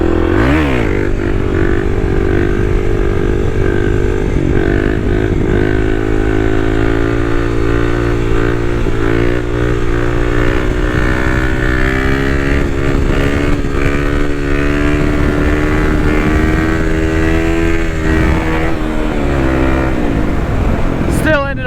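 A Kawasaki KLX300 dirt bike climbs a wooded trail hill, its single-cylinder engine droning loud and close with rising and falling revs throughout, and a rider speaks over it.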